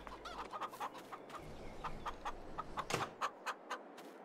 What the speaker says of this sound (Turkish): tavuklarımızı aldık. Ötmeye başladılar.